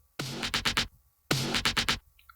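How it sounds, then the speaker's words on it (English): Two identical bursts of a dubstep fill sample, each a rapid run of four or five stuttered hits, loud and upfront in an electronic drop with no talking. "And then we have this cashmere dubstep fill thing."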